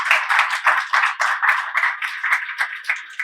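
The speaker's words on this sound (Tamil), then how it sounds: "நல்ல ஒரு கைத்தட்டல் தாங்க" Audience clapping at a Tamil public speaking event, steady rhythmic handclaps in quick repeated bursts, loud and close, with no talk over it.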